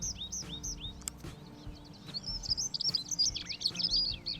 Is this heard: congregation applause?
no